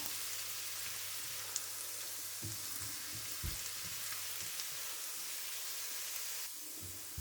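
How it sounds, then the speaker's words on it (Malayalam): Ginger and garlic frying in a pan for a chickpea curry, heard as a continuous close sizzle with a few soft stirring scrapes over a low background hum. "ഇപ്പം നമ്മുടെ ഇഞ്ചി വെളുത്തുള്ളി ഇവിടെ ഒരുവിധം നല്ലപോലെ മൂത്ത് വന്നിട്ടുണ്ട്"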